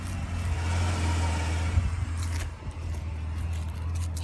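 Ford Taurus engine idling rough with a slight misfire, a steady close low rumble with small uneven dips, running alone without talk.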